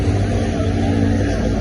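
A truck used to carry horses gives a steady, loud, low engine rumble that continues throughout without pause.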